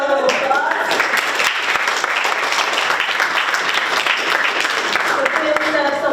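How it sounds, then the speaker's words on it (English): An audience applauds at a youth celebration event in Guyana, a dense, steady wash of clapping filling the room for several seconds with a voice faintly heard over it. "That deserves a bigger round of applause"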